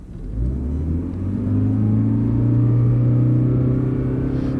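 A car's engine surges as it accelerates hard in power mode, a loud steady rising rumble heard from inside the cabin, with no talking.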